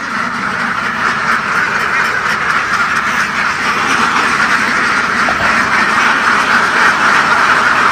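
A flock of ducks quacks steadily and loudly, a dense overlapping chorus with no pauses.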